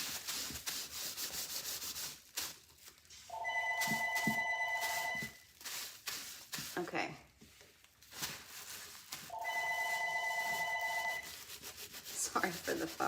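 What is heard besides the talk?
telephone ringing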